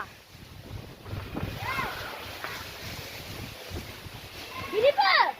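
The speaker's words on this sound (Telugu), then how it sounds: "ఏమ్మా గాలి చూడండి" Strong gusting wind in a storm batters trees and buffets the microphone in a steady roar with surges, while a person talks over it and high squeaky sounds come near the end.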